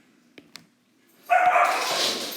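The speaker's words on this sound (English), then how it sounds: "You're going to get to hear my dogs fighting over here." Dogs fighting indoors: two faint yips come first, then a burst of snarling, growling and barking rises and holds, fairly close, with no talk.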